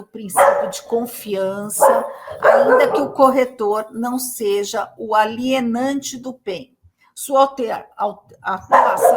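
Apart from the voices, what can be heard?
dog barking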